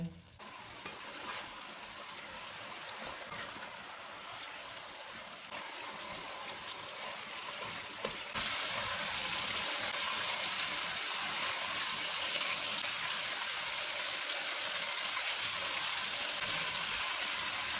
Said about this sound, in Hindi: अब हम चूल्हे को लो टू मीडियम कर देते हैं और इसको ऑयल अलग होने तक भूनेंगे।